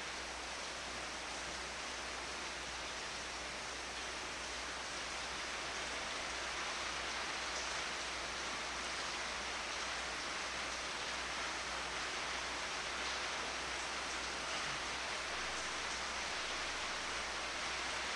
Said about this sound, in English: Then what is this listening to the rain, when one doesn't even know what rain is